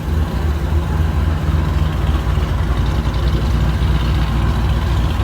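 A LeMans car with a 301 V8 engine idles with a deep, steady, rumbling burble, loud and close, with no other sounds.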